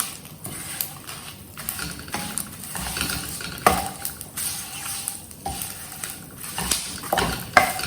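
Whole spices roast in a pan for goda masala, giving a close, scratchy stirring sizzle with scattered soft pops and clicks throughout.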